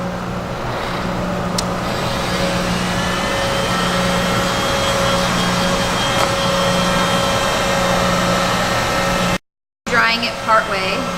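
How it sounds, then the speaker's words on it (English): A heat gun, hotter than a hair dryer, blows a steady, loud stream of air onto edge banding, a continuous whine with a low hum that cuts off briefly near the end before faint movement sounds. "It's a heat gun, a little bit hotter than the hair dryer, but works the same way."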